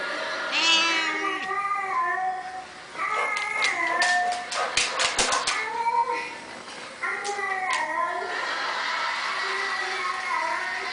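A cat gives a run of drawn-out, talking-like meows and yowls, near and fairly loud, with short pauses between calls.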